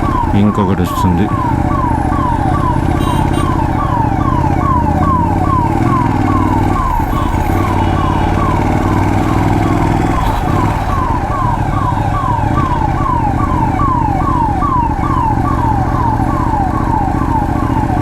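A second ambulance siren cycles in a rapid, regular wail along a road, persisting loudly over a constant roar of motorcycle engine and wind noise for the whole stretch.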